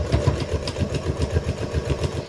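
A sewing machine stitches quilt binding about an eighth of an inch from a folded edge, running steadily at close range with a fast, even mechanical chatter and no talking.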